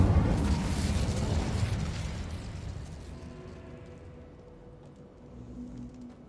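An Incendio fire spell cast in Hogwarts Legacy erupts in a loud, whooshing burst of flame that roars at first and then slowly fades into a low crackling tail.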